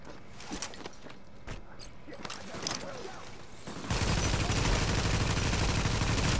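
Gunfire erupts in The Division's Dark Zone: scattered sharp single shots and bursts at first, then from about four seconds a continuous loud, dense stream of automatic fire fills the rest.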